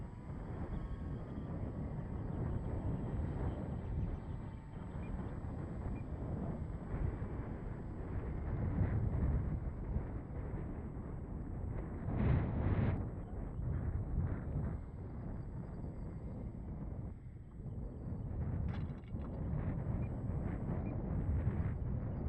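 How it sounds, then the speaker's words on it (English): Wind gusts buffet the microphone at a model airfield where a Flightline 1600mm Spitfire flies, a loud continuous rumbling roar swelling and easing in waves for the whole stretch. "the wind just decided to pick up"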